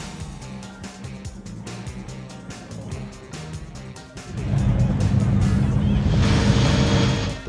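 A WaterCar Panther amphibious car with a 3.7-litre V6 engine and fibreglass hull runs steadily, then surges louder halfway through as rushing water and engine roar build together.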